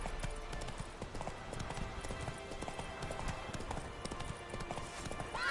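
Roach, the horse in The Witcher 3, gallops in a continuous, fairly faint rhythm of hoofbeats with outdoor game ambience throughout and no clear neigh.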